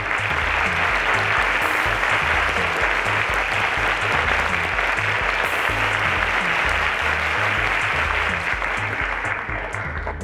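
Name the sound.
audience applause for teachers at an awards ceremony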